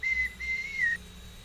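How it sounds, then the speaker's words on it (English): A recorded whistle plays back in an acoustics lecture: a faint, thin tone that holds steady, breaks briefly, then bends downward and stops within a second. "let me play here the whistling, for example. Just recall, this will play the whistle."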